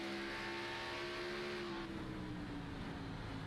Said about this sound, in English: You can hear how much they are just feathering that throttle.